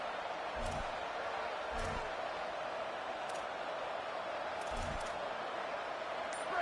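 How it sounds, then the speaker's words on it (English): A home football crowd in a West Virginia stadium roars in a steady, dense wall of noise that never lets up, with a few dull thumps breaking through now and then. "how nice is it to have the home crowd going absolutely bananas?"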